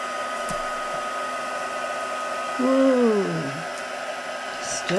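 A heat embossing tool blows hot air in a steady whirring drone across a craft journal tag, with a brief rising and falling whine partway through; no talking.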